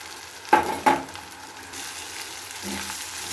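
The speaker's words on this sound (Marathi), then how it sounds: "तर कांदा लाल झालेला आहे, त्याच्यामध्ये आपण ही गवार टाकून देऊयात।" Cluster beans (gavar) tossed into a pan of browned onion for a Maharashtrian-style gavar bhaji, giving two sharp stirring clatters over a quiet, steady sizzle that swells slightly near the end.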